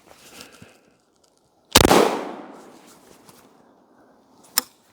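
A Beretta 1301 shotgun fires a single loud blast of 00 buckshot at 10 yards, with a sharp report and a decaying echo, followed moments later by a brief metallic clack.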